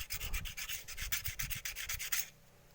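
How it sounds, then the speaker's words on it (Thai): Hand scrubbing a surface back and forth, about a dozen quick rasping strokes in a steady rhythm, close and clear, stopping abruptly near the end and leaving near silence. "ขัดไปขัดมาครับขัดไปขัดมา"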